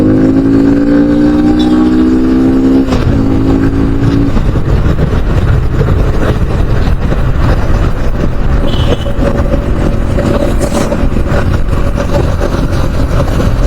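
A motorcycle being ridden and revved, its engine droning loudly and continuously with rising tonal whine early on, a gear shift, and steady wind and road rush after, no speech.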